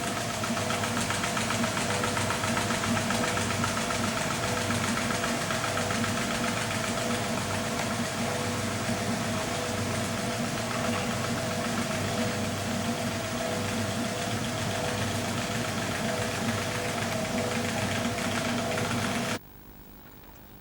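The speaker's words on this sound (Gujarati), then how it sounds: "ઘંટીની બાજુમાં આઈસ્ક્રીમ મેકર મૂકો અને ઘંટી ચાલુ કરો." Baby Prince domestic flour mill running with an ice cream maker beside it, a steady loud motor hum with a rhythmic mechanical knock, continuous until it cuts off near the end.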